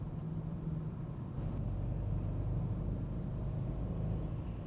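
A Mercedes-Benz C 63 AMG W204 V8 engine pulls with a steady, deep low-end rumble, swelling slightly louder partway through, heard from inside the car with no talking.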